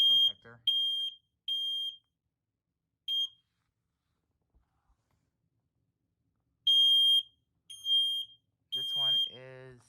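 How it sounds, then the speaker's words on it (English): Kidde ionization smoke detector under test, sounding shrill piercing alarm beeps in short bursts separated by silence, with a person speaking briefly at the end. "This is actually a Kitty ionization smoke detector."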